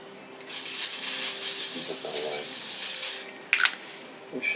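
Bursts of hissing spray from a spray bottle, a long mist followed by a short sharp spritz and a couple of quick puffs.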